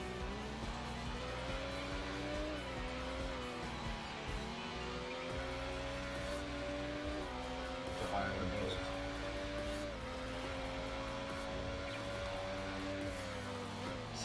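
A car in a racing video game brakes hard at the last moment, its engine droning with shifting pitch and tires squealing, all under continuous French-speaking commentary.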